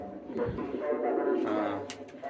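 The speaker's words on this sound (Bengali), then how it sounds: "আর এটা দিয়ে আমি এক জোড়া কবুতর কিন্তু নিয়ে নিয়েছি" Soft, low cooing from a newly bought pair of pigeons, heard at close range at night, rolling on steadily under murmured human voices.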